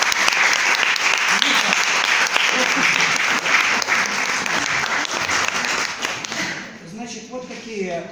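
An audience breaks into applause after a 45-minute master class, dense sustained clapping that fills the room and thins out toward the end.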